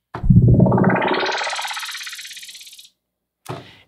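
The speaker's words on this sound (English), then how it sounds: "I actually got this transition I pulled up. It sounds like this." Trap-beat transition effect: a distorted sweep rising steadily for nearly three seconds then cutting off, followed by a short separate burst, loud and alone.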